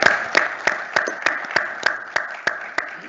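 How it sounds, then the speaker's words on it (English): Steady, evenly spaced claps ring out at an AMCOM town hall, a sharp clap roughly every third of a second, fairly close and clear with no talking over them. "I just want to highlight another round of applause for those that have."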